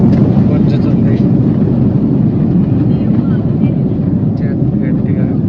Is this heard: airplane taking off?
yes